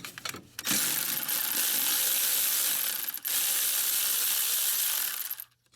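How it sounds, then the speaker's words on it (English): A hand ratchet loosens a 10mm bolt on a Honda CR-V during rear wheel bearing work, giving a steady, close, fast clicking that runs nearly unbroken for about five seconds, with one brief pause and no talk. "Okay, so now I'm going to undo this 10mm bolt."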